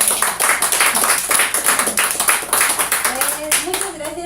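An audience claps at the close of a book discussion, a lively burst of distinct hand claps close by, with voices speaking over the applause as it tapers off near the end.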